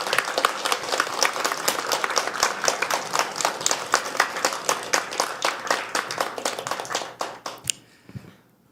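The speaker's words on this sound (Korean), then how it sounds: "우리 박수로 모시도록 하겠습니다." Church congregation applauding to welcome a pastor onstage at a Korean evening service, a brisk, close run of many hands clapping in a regular rhythm that swells and then stops abruptly, leaving near silence.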